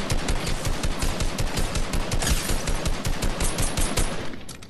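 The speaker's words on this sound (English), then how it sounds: "Somebody shooting you" Rapid automatic gunfire from a shooting video game, a dense, loud stream of closely spaced shots that continues without a break for the whole stretch and thins out only at the very end.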